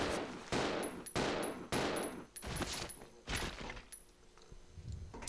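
Repeated bursts of video game gunfire from Resident Evil Zero as zombies are shot, sharp loud blasts in quick succession with brief gaps, followed by softer shots and clatter.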